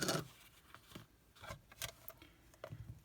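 Scissors snip a ribbon loop during a paper craft project, making a few quiet, close cuts with soft rustling and handling noises between them and no voices.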